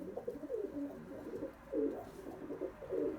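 Pigeons coo softly inside a loft, repeated low rolling calls in an irregular rhythm, close and fairly quiet, with no talking.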